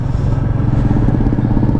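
Royal Enfield Meteor 350 motorcycle engine running steadily on a ride, a loud close low rumble with continuous throbbing pulses and some road clatter, no voices.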